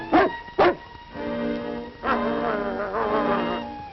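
Two sharp barks from a wolf dog ring out close and loud at the start, then a long tonal whine or howl carries on through the rest of the clip with no speech.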